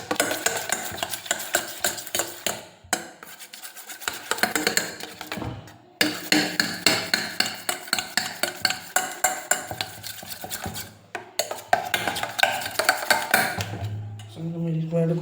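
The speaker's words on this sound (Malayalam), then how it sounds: "ഇളക്കുകയാണ്." Bun maska mixture is stirred briskly in a container, giving rapid, regular scraping and knocking strokes, loud and close, with a few brief pauses between bursts.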